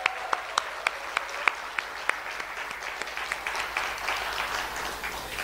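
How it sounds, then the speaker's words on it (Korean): Applause at a Korean presidential campaign rally for candidate Lee Jae-myung, starting with sharp, spaced individual claps that swell into a dense, continuous round of clapping from a crowd. "환호의 박수 다시 한번 부탁드리겠습니다."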